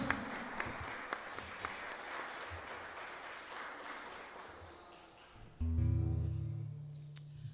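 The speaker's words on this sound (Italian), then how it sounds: "Puoi fare un applauso al Signore?" A church congregation applauds during a worship service at ADM Verona, a moderately loud wash of clapping that fades, then gives way to sustained musical tones near the end.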